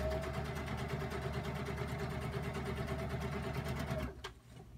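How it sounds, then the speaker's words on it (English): A sewing machine runs steadily, stitching floral fabric onto a collage journal page with a dense, fast, rhythmic hum. The whirr sounds close and continuous, then stops abruptly near the end, followed by a click. "I just finished sewing the sides of that floral piece of fabric"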